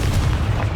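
A Confringo spell blast in the Hogwarts Legacy video game, a loud, sustained boom with heavy low rumble filling the whole moment, no voices over it.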